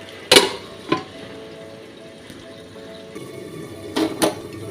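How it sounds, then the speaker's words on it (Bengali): A lid set onto a cooking pan of spinach fried with kalai dal and poppy seeds gives a sharp metallic clank, followed by a softer knock, then two more clinks near the end over a faint sizzle. "এবার আমি ঢাকনাটা দিয়ে দিলাম।"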